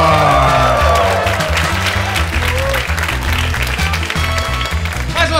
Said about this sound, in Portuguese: Mais uma salva de palmas para o Hugo Veríssimo